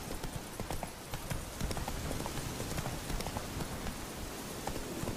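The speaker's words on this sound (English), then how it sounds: "Run, Roach" Horse hooves galloping in the video game The Witcher 3, a steady rapid clip-clop under a constant rain-like wash of ambient noise.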